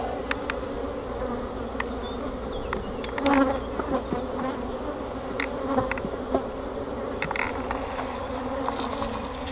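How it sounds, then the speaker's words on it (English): Honey bees buzz steadily from an open hive during an evening inspection, a dense continuous drone with occasional louder passes of individual bees close by and faint clicks of hive handling, no talking. "so there should be nurse bees over here"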